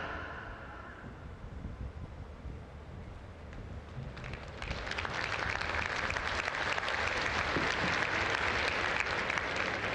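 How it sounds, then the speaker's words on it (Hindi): A large outdoor crowd at a political event in Dediyapada breaks into applause, rising after a few seconds into sustained, dense clapping heard from a distance, with no speech over it. "आइए तालियों के साथ आभार व्यक्त करें माननीय प्रधानमंत्री जी का इस विशेष भेंट के लिए।"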